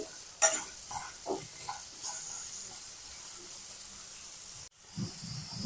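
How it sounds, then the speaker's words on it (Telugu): Peanuts and raw coconut fry in oil in a pan for chutney, a steady soft sizzle broken by a few stirring scrapes and a brief clatter near the end. "కొద్దిగా ఒక గుప్పెడన్ని పల్లీలు వేస్తున్నాను ఇవి మంచిగా వేగనివ్వాలండి ఆయిల్లో"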